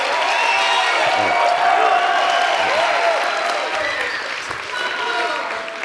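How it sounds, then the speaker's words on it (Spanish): Studio audience applauding throughout a late-night comedy show monologue, dense and steady with some cheering mixed in, loud and continuous across the whole stretch. "Gracias por este espontáneo aplauso."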